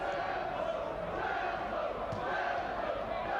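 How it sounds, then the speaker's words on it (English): School rugby supporters at an under-18 cup semi-final, Wilmslow High School against Dulwich, raise a sustained roar of cheering and shouting that rises after a penalty, a broad continuous crowd wash with no single voice standing out. "their crowd find their voice as well"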